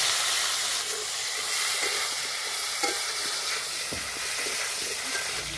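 Cut potatoes sizzle and fry steadily in hot mustard oil with whole cumin and bay leaf, a continuous close hiss with scattered small pops and no voices.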